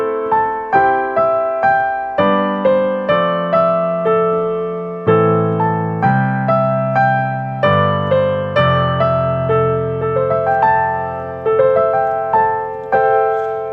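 Synth melody plays alone: steady repeating plucked notes in a bright, rhythmic line over a low sustained bass, loud and continuous without any talking.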